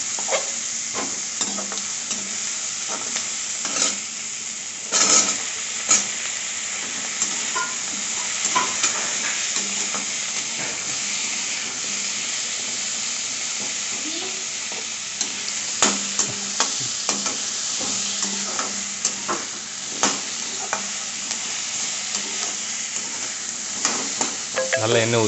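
Drumstick pieces and onion fry in hot oil for murungakkai sambar, a steady close sizzle running the whole time with occasional sharper crackles and spatters and no voices.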